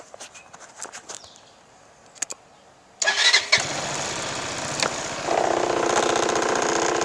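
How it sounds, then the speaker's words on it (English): A 2009 CF Moto Glory 150 motorcycle sits on its kickstand, with a few quiet clicks and handling noises before the engine cranks and catches. It then settles into a steady, close idle with no talking. "So now I'm going to start the bike for you."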